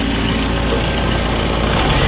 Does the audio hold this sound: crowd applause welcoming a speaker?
no